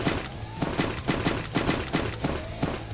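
Rapid bursts of automatic gunfire from the Free Fire mobile battle royale game, evenly spaced shots repeating across the stretch with steady loud impacts over a low game-music bed.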